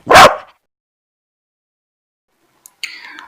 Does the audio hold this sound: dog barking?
yes